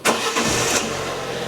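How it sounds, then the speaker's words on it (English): A car engine cranks and fires up after being jump-started with a Topdon V2200 Plus portable jump starter, a short loud starting burst that settles into a steady close idle. "we'll go into the car and we'll start the engine"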